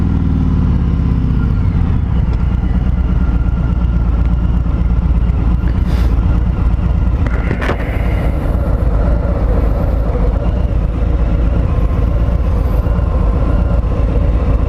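A 2020 Harley-Davidson Road King Special rides in first gear, its V-twin engine giving a loud, steady, deep pulsing rumble that continues throughout without letting up, heard alone with no speech.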